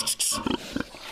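A sow shortly before her third farrowing gives several short grunting vocalizations, close and fairly loud, in separate bursts.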